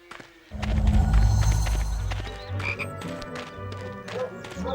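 A chocolate frog in the Harry Potter and the Chamber of Secrets PS2 game croaks loudly and close, in a burst of deep croaks and thumps that fades into softer sounds.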